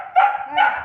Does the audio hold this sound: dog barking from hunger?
yes